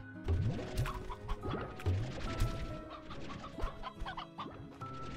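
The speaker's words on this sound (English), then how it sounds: "Here, you can have the chicken back." Cartoonish chicken clucks in the video game Slime Rancher 2, a busy run of repeated bursts mixed with thuds and game effects, fairly loud and close, with no talking.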